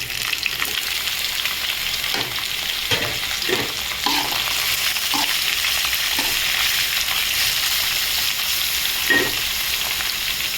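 Cluster bean pieces, drained beforehand, frying and being stirred in a pan, giving a steady close sizzle with a few soft scraping stirs, no talking.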